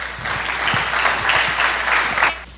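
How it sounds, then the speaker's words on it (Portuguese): A church congregation gives a short burst of warm applause, close and lively, with distinct individual claps standing out over the massed clapping before it fades at the end. "Recebemos com uma linda salva de palmas."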